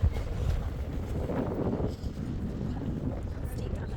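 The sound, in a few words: wind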